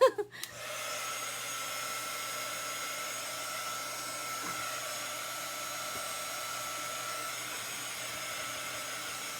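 A small heat tool drying chalk paint on a magnetic board gives off a steady, even blowing whir after a brief click at switch-on, close and moderately loud, unchanging for several seconds.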